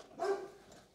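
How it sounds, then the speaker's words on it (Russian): A dog barks once, a short, fairly faint yelp-like woof indoors at home while a delivery arrives, with no talking during the sound. "Гавкает тут."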